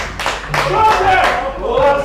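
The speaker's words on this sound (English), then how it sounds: "you could hear the clap from the" Scattered applause carries from the pavilion at a cricket club match in Ibadan, a few hand claps heard under continuous commentary.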